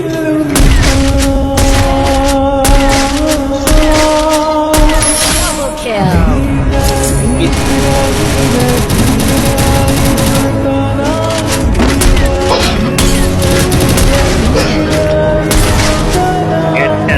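Loud gunfire in an online shooter match crackles in bursts and booms over a dense mix of game sounds, while a player talks excitedly over the action.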